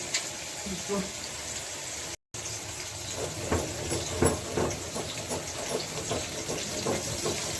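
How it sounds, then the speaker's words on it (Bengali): Potatoes fry in a pan with a steady, close sizzling hiss and occasional crackles, while a person talks over the cooking. "আলু দিলাম। আগে একটু আলুটা ভেজে নিব"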